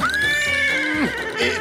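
Cartoon horse on a farm giving one loud, drawn-out whinny that wavers and then drops in pitch, heard up close with a faint clop at the end.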